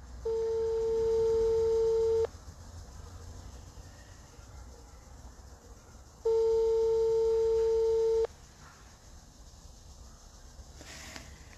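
Phone busy signal for an engaged number: two long steady tones, each about two seconds, separated by a gap of several seconds, clear over faint background noise.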